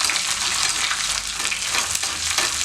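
Small shallots frying in hot oil for a village-style green gram curry tempering, a dense, steady sizzle close up with faint stirring scrapes throughout.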